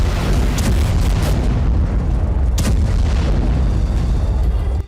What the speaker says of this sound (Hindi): यह धमाका इतना जोरदार था कि आसपास की जमीन कांप उठी थी